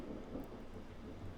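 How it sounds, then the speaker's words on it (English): Thunder rolling through a heavy storm, a low continuous rumble with steady rain noise, heard faintly from indoors without anyone talking. "I apologize if you can hear the thunder. There's actually a really bad storm happening right now."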